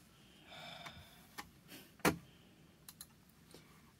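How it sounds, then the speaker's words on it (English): Scattered clicks on a Chromebook while playing Minecraft for Education, a handful of irregular sharp taps with one louder click in the middle, close and fairly quiet, with no speech. "I am clicking and it won't let me."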